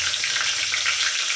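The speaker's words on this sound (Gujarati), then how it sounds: "તો તેલ આપણું ગરમ થઈ ગયું છે તો આપણે જીરું નાખશું. જીરું ફૂટવા લાગે" Cumin seeds crackle and sizzle in hot oil in a home kitchen pan: a steady, close hiss with fine popping throughout, no voices.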